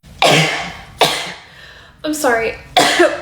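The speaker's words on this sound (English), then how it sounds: "People have heard you coughing." A person coughing indoors, four harsh, separate coughs spaced about a second apart and close to the microphone, with a short spoken apology among them.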